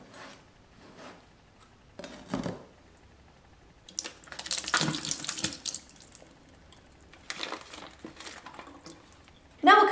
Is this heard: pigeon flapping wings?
no